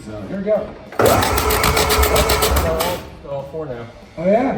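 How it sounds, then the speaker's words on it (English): A 1929 Ford Model A engine cranks on its starter in a loud, steady mechanical churn of about two seconds, rhythmic pulses beneath, with people talking before and after. "Give it some revolutions with the starter"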